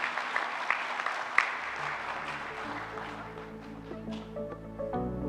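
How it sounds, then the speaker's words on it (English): Applause from the audience at an industry conference panel evening, scattered claps near the start fading as sustained tones from music or a stage sound system come in underneath. "Give yourself a round of applause for attending tonight"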